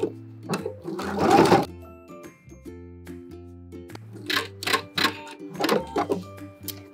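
A sewing machine stitches a seam in clear raincoat vinyl, with several short close bursts of rapid mechanical whirring separated by pauses and quieter handling sounds.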